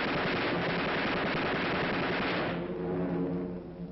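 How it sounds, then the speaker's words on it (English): Defensive machine gun fire from WWII bombers flying in formation, archive footage: a loud, continuous rattling barrage that thins and softens near the end, with no voices. "In formation, the bombers can lay down a deadly pattern of protective fire."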